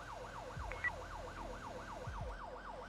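An emergency vehicle siren in the FiveM roleplay mod of GTA V wails in a rapid, regular rising-and-falling cycle, fairly faint and steady, with a couple of low thumps underneath.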